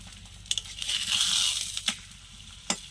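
Steady hiss of aloo paratha frying in hot oil in a wok, rising and fading, with a few sharp clicks and crackles standing out.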